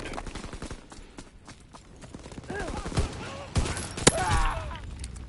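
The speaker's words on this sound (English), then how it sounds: "the Lewis gun, everyone's favourite" Lewis gun fire in the WWII shooter game Call of Duty WWII, several sharp bursts and single reports mixed with other battlefield shots, one loud crack standing out, while someone talks over the action.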